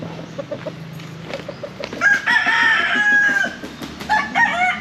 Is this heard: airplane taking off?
no